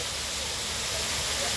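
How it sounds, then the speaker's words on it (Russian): The Weeping Rocks waterfall near Reidovo village on Iturup gives a steady, close rushing roar of falling water, a dense unbroken hiss with no pauses. "Водопад называется «Плачущие скалы» в поселке Рейдово."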